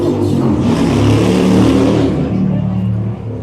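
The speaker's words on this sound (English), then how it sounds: "The motorcycle guy's having a great old time. I love the ruckus they make." A motorcycle revs loudly on a city street in St. Clair West, Toronto, its engine roar building, holding and then easing off over a few seconds.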